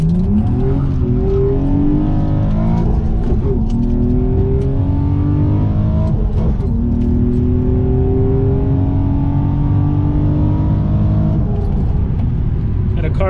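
An Infiniti G35 or Nissan 350Z engine accelerates hard, pitch climbing through several gear changes, loud and close with steady road roar.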